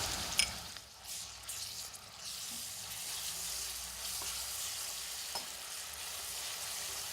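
Ginger garlic paste frying in a pan, a steady close sizzle running through, with a few light stirring scrapes and clinks on top.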